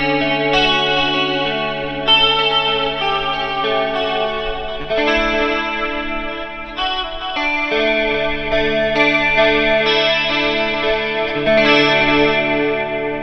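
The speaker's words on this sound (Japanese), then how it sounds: "今ファズフォックゲイン結構下げてて、でここもちょっと下げてるんで、ちょい歪みサウンドとかで" An electric guitar plays through a Fuzz Face–style fuzz pedal with the gain turned well down, giving a lightly distorted, sustained chordal tone with a chorus-like shimmer, strummed and held in a steady loud passage without talk.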